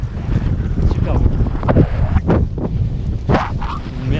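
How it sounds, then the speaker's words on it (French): Strong wind buffets the open summit of the Puy de Dôme, a loud, continuous rushing roar with gusty surges throughout. "Alors le vent souffle"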